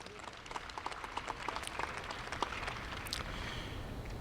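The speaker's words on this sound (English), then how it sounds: "Let's give these young ladies a nice big round of applause." At a dairy cattle show ring, an audience gives young ladies a round of applause, heard as fairly faint, steady clapping across the whole stretch.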